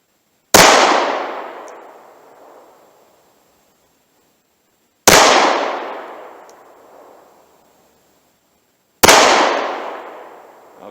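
Three loud, sharp shots from a Ruger Security 9 9mm pistol, evenly spaced about four seconds apart, each with a long fading echo trailing off at an outdoor range.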